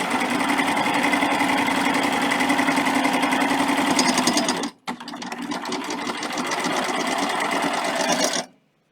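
Sewing machine stitching double fold bias binding onto a quilt, a fast, even, close mechanical whir that stops briefly, restarts and then cuts off, with no talk.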